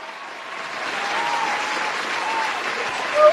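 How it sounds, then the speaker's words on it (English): A studio audience claps steadily for guest KB the Seer on a wrestling talk show, a dense, even wash of applause lasting a few seconds with a slight swell at the end and no one speaking. "We got to give a round of applause."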